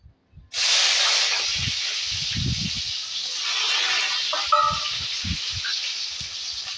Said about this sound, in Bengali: এবার এর মধ্যে পেঁয়াজটা দিয়ে দেবো।